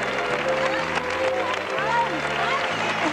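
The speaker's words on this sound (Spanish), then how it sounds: "Ya este aplauso del público." A television game show studio audience applauds steadily for several seconds beneath music and some voices.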